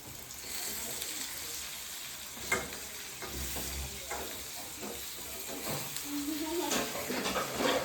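Food stirred while frying in a pan with turmeric, a steady close sizzle under scraping spoon strokes and a few clinks, with people talking faintly in the background.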